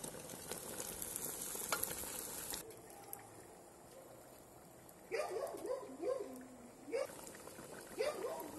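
Potatoes hit a cauldron of chicken stew cooking over an outdoor campfire, giving a loud, steady sizzling crackle for a few seconds that then settles into a quieter simmer, with short whining, whimper-like tones breaking in near the end.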